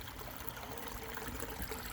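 Water babbling and trickling over a stream weir, a steady close wash of bright splashing with no pauses and no voices.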